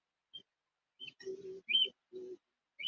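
A pet cockatiel calling indoors: a few short, close chirps and whistled notes in irregular bursts, moderately loud with quiet gaps between, no talking.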